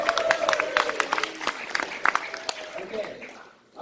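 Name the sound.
audience applause at launch event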